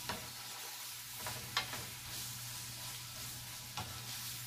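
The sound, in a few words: onion stirred and frying for beef fajita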